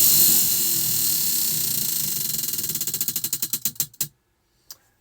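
A prize wheel spun to pick a crochet stitch, fast clicking ticks that slow into spaced clacks and stop, followed by one faint knock.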